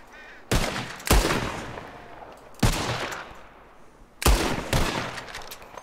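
Four sharp gunshots ring out in Red Dead Redemption 2 as players fire at flying birds, arriving as two quick pairs a second or two apart, each loud crack trailing off into a decaying echo.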